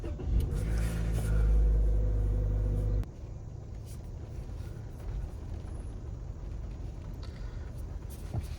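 A 2025 Toyota Corolla hatchback SE driving in the rain, its engine droning low and steady at first, then settling into a quieter continuous road and tyre rumble.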